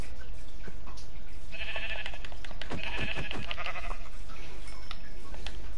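A sheep in a video game bleats in two or three short wavering calls that sound fairly close, set against a steady background hum, with no speech.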